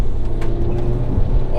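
Modified Honda Civic hatchback engine running at high RPM as it loses power, a continuous droning engine tone heard from inside the car, close and fairly loud.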